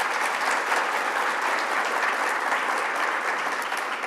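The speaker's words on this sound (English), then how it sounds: "let's give them a quick round of applause" Sustained audience applause for panel speakers at a STEM workforce discussion event, a thick, uniform wash of clapping from a sizable crowd, steady and loud from start to finish.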